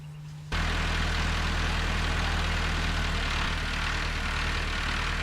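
A slow-moving tractor engine starts up after a brief quieter moment and then runs steadily with a deep, throbbing low rumble, loud and close for the rest of the clip.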